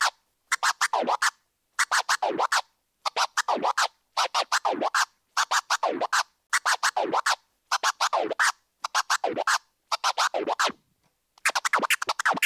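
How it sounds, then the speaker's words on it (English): Chirp and flare combination scratching on a turntable: a DJ repeats rapid clusters of sharp, choppy record strokes cut by the crossfader, loud and close, in a steady rhythm of short bursts separated by brief silences. "This is another combination scratch. This is a chirp and a flur."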